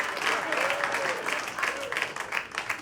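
Audience applause at a standup comedy show, a dense, steady patter of many hands clapping that keeps an even level for a few seconds, with a faint voice tone running beneath the crowd.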